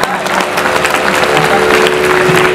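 Audience applause at a performance at Konark Natya Mandap, a steady dense clapping wash sustained throughout the short stretch with no gaps.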